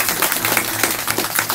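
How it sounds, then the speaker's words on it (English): Audience applause at a community music night, a steady wash of clapping with soft scattered claps, moderately loud and continuous through the short stretch. "Let's give her a big hand."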